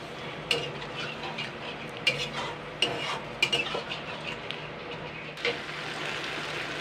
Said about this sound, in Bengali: এবার এটা দিয়ে আমি নাড়াচাড়া করব বেশ খানিকক্ষণ।